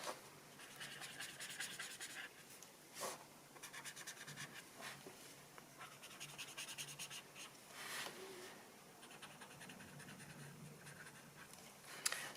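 A marker nib scratches across paper as leaves are colored in, with quiet, close rubbing strokes in uneven bursts and short pauses, faint throughout.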